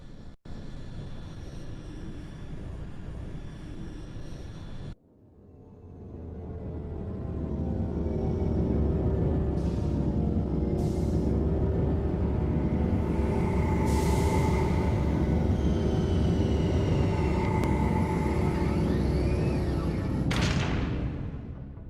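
The Normandy spaceship sets down on the Citadel in Mass Effect, a loud, sustained engine roar that swells in after a sharp cut and holds steady, with brief hissing bursts over it.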